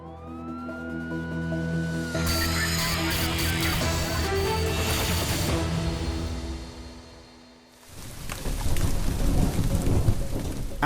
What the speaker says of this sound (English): Yorkshire is being drenched in thunderstorms and downpours